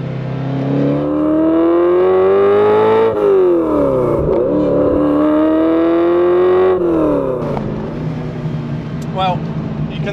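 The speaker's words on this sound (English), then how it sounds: "Say what you want about these gas guzzlers, the old Ferraris, they do sound good" Old Ferrari engine revving hard from inside the car while driving, its loud harmonic note climbing and falling through gear changes, with brief talk near the end.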